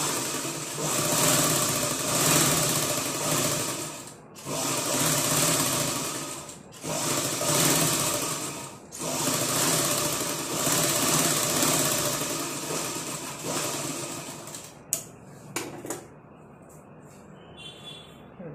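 A sewing machine runs in long steady bursts while stitching along the cut front neckline of a blouse, pausing briefly between runs and ending with a few short clicks.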